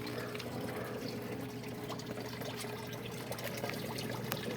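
Water poured into a big aquarium tank as new fish are released, a continuous soft splashing and trickling that stays steady and fairly faint, with no talk.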